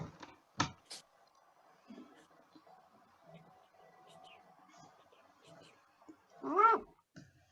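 A domestic cat meows with short, clear rising-and-falling calls, one near the start and a louder drawn-out one near the end, with quiet background sound between them.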